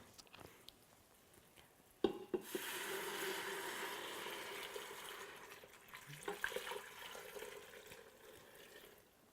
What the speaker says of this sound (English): Then we're going to add the water.